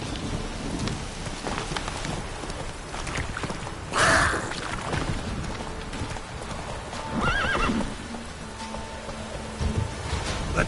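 Roach, a horse in a video game, gallops steadily with a rhythmic clip-clop of hooves under rain, snorting or whinnying a couple of times along the way, with no talk over it.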